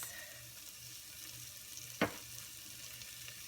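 Garlic and ginger hitting a hot pan of softened sweet potato for a spicy soup produce a faint, steady sizzle, with one brief sharp crackle partway through.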